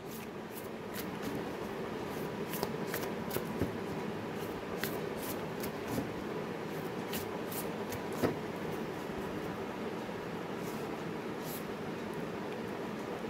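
Tarot cards being shuffled: a steady papery rustle runs throughout with small sharp clicks and flicks scattered through it, fairly close and even in loudness, with no voices.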